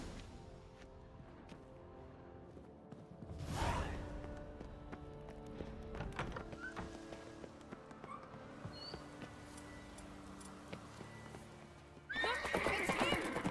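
Horse neighs loudly and hooves clip-clop as it is ridden in The Witcher 3: Wild Hunt, with a sharp whinny early on, steady galloping hoofbeats under game music, and a rider's voice near the end.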